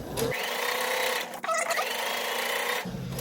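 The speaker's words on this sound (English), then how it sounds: "you can chain stitch one right after the other like this" A sewing machine chain stitching quilt pieces for a log cabin placemat runs in a steady close whirring burst, pausing briefly midway before the stitching resumes, with no talk.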